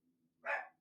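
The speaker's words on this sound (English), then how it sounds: "I'm sorry if you can hear my dogs barking in the background." Dogs bark in the background, a single short muffled woof rising sharply out of near silence and fading quickly.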